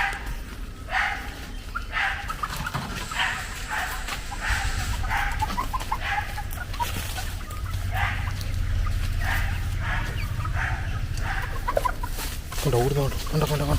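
Chickens cluck and call repeatedly at close range in a coop while a mongoose tries to get in, over a steady low rumble, with occasional short bursts of other noise.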